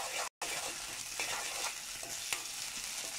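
Ginger garlic paste sautés with onions in hot oil, giving a steady, close sizzle with scattered stirring scrapes and a brief break near the start.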